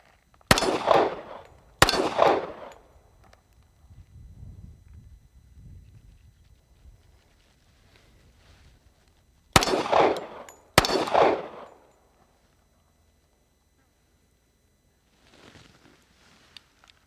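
Handgun fired in two quick double shots at an outdoor shooting range, loud, sharp reports with short echoing tails, separated by a long quiet gap with faint background rumble.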